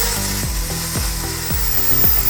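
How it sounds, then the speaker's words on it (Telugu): A drill machine scratches a phone screen, its motor whining in a run of pitched spin-downs that fall every half second or so, close and fairly loud against a steady background hiss. "ఫ్రెండ్స్, డ్రిల్ మిషన్ తో కానీ స్క్రాచ్ వేయబోతున్నాము"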